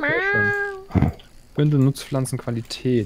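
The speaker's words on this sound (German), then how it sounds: "Das ist eine Katze, die will," A cat in the video game Stardew Valley gives one clear, drawn-out meow near the start, followed by a person talking.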